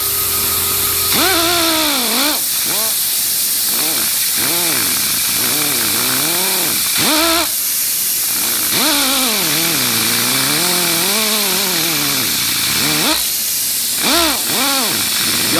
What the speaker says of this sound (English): go back with the other part of a buffing wheel the opposite direction and make sure it's clean, and then you're actually buffing that